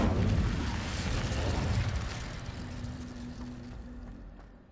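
An Incendio fire spell blasts in the Hogwarts Legacy video game, a loud, roaring burst of flame that starts at full force and slowly fades over a few seconds.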